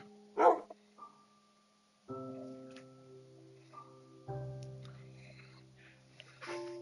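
A pet dog named Tiana gives one sharp bark near the start, followed by quieter sustained electronic musical tones and a few faint clicks.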